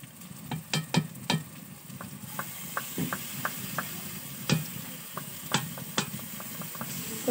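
Ginger, garlic and chilli paste fries with browned onions in a pan, a quiet steady sizzle broken by repeated scraping and tapping of a spoon stirring.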